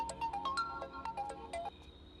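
A mobile phone ringing with an incoming call, a fairly quiet melodic ringtone of quick bright electronic notes in a bouncing pattern, repeating briefly with no one speaking over it.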